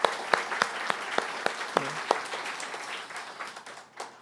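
A church congregation gives applause during a Sunday worship service, with a few distinct, sharp claps spaced out at first, then a softer spread of clapping that thins and fades toward the end.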